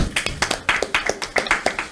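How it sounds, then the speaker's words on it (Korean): An audience at a Liberty Korea Party recruitment event with press present claps in a quick, even rhythm, sharp distinct claps sounding close and regular, with no talking over them. "박수 한번 좀 쳐주시죠."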